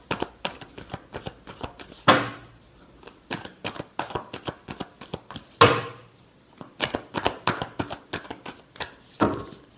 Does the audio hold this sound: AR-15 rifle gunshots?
no